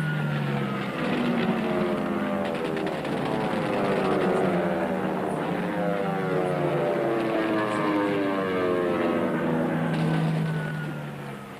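RAF Spitfire fighters in aerial combat with Luftwaffe Messerschmitt 109s: a loud, continuous propeller-engine roar with a sweeping, shifting pitch, like planes diving and climbing.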